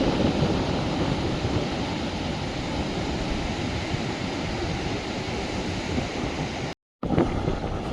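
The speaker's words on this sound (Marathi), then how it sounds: "लाटा पहा किती मोठे मोठे लाटा आहेत" Big ocean waves break on a New Zealand beach, a loud continuous roar of surf mixed with heavy wind buffeting the microphone, cut by a brief dropout near the end.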